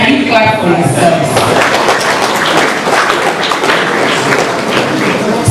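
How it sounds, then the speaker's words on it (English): A Nigerian business breakfast audience of small-business owners claps together, a dense steady patter of hands filling the room, close and continuous throughout. "Please, can you clap for yourselves?"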